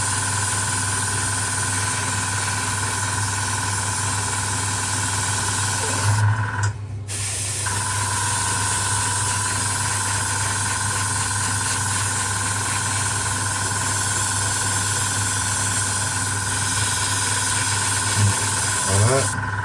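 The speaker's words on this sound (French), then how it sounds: "C'est le compresseur" An air compressor running during spray painting on a Citroën, a constant loud droning hum with steady hiss that continues throughout, with a brief louder bump partway through and no clear talk over it.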